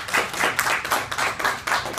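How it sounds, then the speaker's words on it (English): Audience clapping at a college student government presidential debate, a short, moderately loud burst of hand claps with a rhythmic, pulsing feel and no talk over it. "Please give a round of applause."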